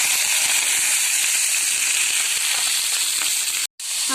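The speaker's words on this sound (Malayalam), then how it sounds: "കടുക് പൊട്ടിയതിന് ശേഷം അരിഞ്ഞെടുത്ത പയർ അതിലേക്ക് ഇട്ട് വയ്ക്കുക" Mustard seeds and chopped green beans frying in hot oil for a Kerala thoran, a steady dense sizzle with scattered popping crackles throughout, briefly cutting out near the end.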